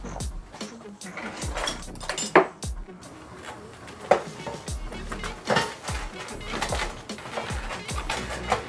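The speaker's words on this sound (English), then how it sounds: "You're gonna need a knife to cut the bread." A knife saws through golden toasted bread in a kitchen, a run of scraping strokes mixed with sharp clinks and clatter of cutlery and dishes, fairly close and moderately loud.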